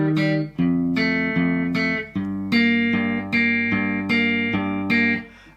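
Guitar playing the opening two bars of a song: a clean, repeating pattern of plucked notes with ringing sustain, played alone at close range in an even rhythm.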